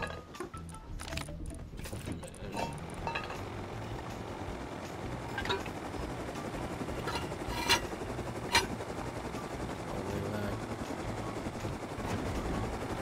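Minicopter helicopter in the video game Rust, flying with a steady whirring rotor and engine drone that continues throughout, with a few sharp metallic clinks over it and no voices.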